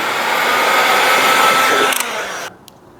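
A heat gun blows a steady, close, airy whoosh while warming vinyl wrap on the corner of an Abarth 124 Spider, then shuts off abruptly just before the end.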